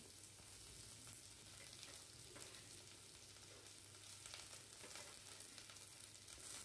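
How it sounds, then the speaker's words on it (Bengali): Onions frying in hot mustard oil in a wok, a steady, continuous sizzle with occasional stirring, close and even in level with no talk. "তেল গরম হয়ে গেছে, পেঁয়াজটা দিয়ে দিচ্ছি।"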